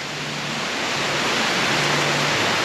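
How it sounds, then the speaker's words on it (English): Heavy rain pours down at a hotel in Nicaragua, a dense, steady, loud hiss with no letup and no talking. "this is how much rain is coming down just in that amount of time from walking from one side of the hotel"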